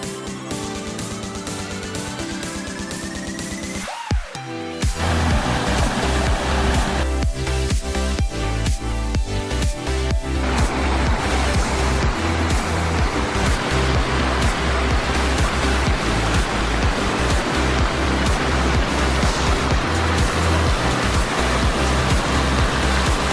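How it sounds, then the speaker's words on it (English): A garden pond waterfall pours water over rocks in a loud, steady, close rushing wash that fills the whole stretch without letup, with no voices. "The water is flowing and it looks like it's eroded away and exposed."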